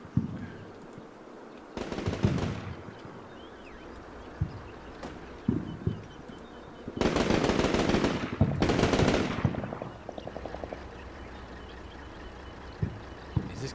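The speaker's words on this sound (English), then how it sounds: "Guy firing at my sniper." Machine-gun bursts rattle in Combat Mission Shock Force 2 as an enemy fires at a sniper: several long, loud strafing volleys separated by quieter gaps with occasional single distant shots.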